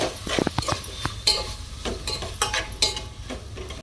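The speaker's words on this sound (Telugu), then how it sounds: "ఇప్పుడు తిప్పుకుందాం." A spoon stirs a mixed vegetable curry with prawn peels, salt and chili in a pan. Soft scraping and clinking strokes come at an irregular pace over a faint sizzle, close up, with no voices.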